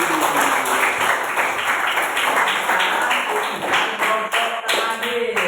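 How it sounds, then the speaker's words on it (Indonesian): A group in a classroom claps hands together in a brisk, rhythmic run of sharp, close claps lasting several seconds, with voices mixed faintly underneath. "Tepuk tangan kembali."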